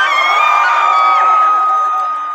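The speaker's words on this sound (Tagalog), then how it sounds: "damang-dama namin ang lakas ng inyong mga sigawan" Loud, sustained shouting and cheering from a large crowd at a Philippine political rally's miting de avance, a dense steady roar with high voices and whoops riding on top and easing slightly toward the end.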